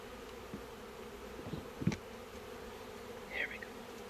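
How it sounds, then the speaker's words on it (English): Honeybees buzzing around an opened box on a hot day, a steady low hum of many wings with a few louder passes close by. "A lot of bees flying around."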